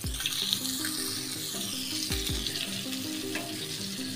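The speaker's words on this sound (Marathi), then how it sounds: "हे बघा मच्छी फ्राय होते." Pieces of halwa fish fry in hot oil, giving a steady close crackling sizzle with a few louder pops and spatters, with no voices.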